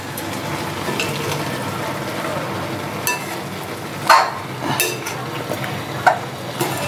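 Carrots simmering in boiling milk in a pot are stirred, giving a soft steady bubbling hiss with a few scraping clinks of the spoon against the pan.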